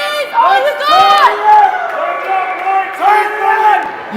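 Spectators at a girls' 14U ice hockey game yell and whoop in bursts, with voices rising and falling in cheering shouts, close and loud with crowd chatter underneath.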